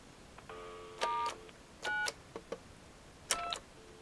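Telephone DTMF keypad tones beep in a short sequence of dialed digits on a call waiting line, each a brief steady electronic tone with gaps between, over a faint background hum.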